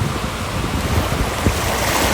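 Sea waves washing onto a white sand beach at Cawit, Pilar, Cebu, a steady broadband wash with wind noise buffeting the microphone and a couple of brief surges.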